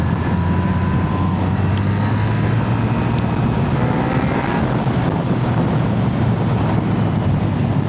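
A BMW R1300R motorcycle pulls hard in fourth gear, its engine a steady low drone buried under heavy, constant wind rush across the microphone at speed.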